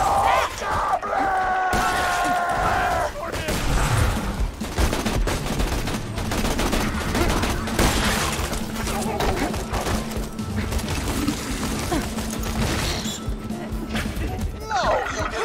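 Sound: gunfire in the video game Borderlands 2

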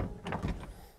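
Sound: Wartburg 353 car door handle pulled open

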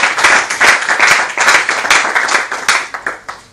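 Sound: audience applause after a debate speaker

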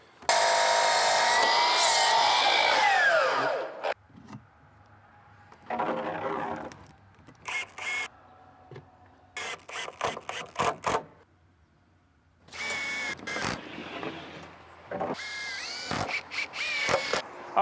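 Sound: cutting bevel ends of cedar purlins

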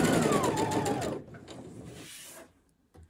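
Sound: sewing machine stitching fabric

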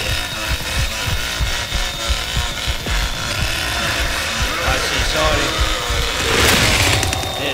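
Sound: chainsaw revving and stalling in Texas Chainsaw Massacre video game

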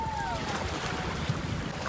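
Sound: waves and wind at Maniwaya Island sandbar

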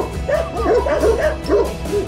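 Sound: sheepdog barking

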